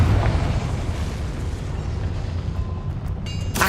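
A Confringo fire spell explodes in the Hogwarts Legacy video game, a loud, sustained rumbling blast filling the whole moment with no voices.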